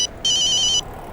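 A phone rings with two bright electronic trills, a short one followed by a longer one, close and loud with no talk.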